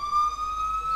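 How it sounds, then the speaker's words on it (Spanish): An ambulance siren sounds during a hill climb race, a loud, steady, high wail heard alone for a moment as it comes down the mountain road. "ahí vemos, nos baja aquí la ambulancia."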